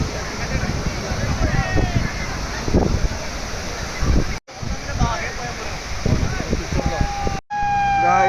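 An emergency vehicle siren wails past on a road near a beach in Goa, rising and falling over wind and traffic noise, with people talking close by.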